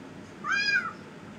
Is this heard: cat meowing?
yes